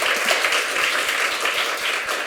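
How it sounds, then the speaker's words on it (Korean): Audience at a forum session on nature's rights and the future of the DMZ applauding, a steady even patter of many hands clapping, fairly close and sustained without talk. "박수로 한 번 더 해주시고요."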